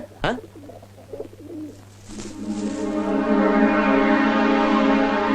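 A pigeon coos in a Telugu film scene, soft throaty calls over a steady tonal backdrop that swells in the second half of the clip.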